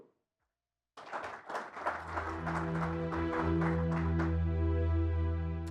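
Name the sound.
audience applause at a conference panel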